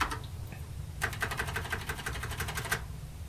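Rapid, evenly spaced clicks come from the space bar of a TRS-80 Model III keyboard under repair, a fast repeating burst lasting under two seconds and then stopping.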